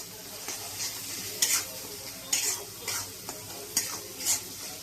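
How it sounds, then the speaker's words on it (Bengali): Tomato with ginger-garlic paste and chili masala stir-fried in hot oil for a Bengali fish curry: a steady low sizzle broken by several sharp scraping stirs of the spatula at irregular intervals, close by, with no talking. "এবারে এইগুলো সবগুলো একটু ভালো মতন করে কষিয়ে নেব একসাথে"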